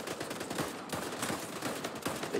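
Rapid bursts of video game gunfire crackle continuously through a live-streamed multiplayer flag match, dense overlapping shots filling the whole moment at steady loudness.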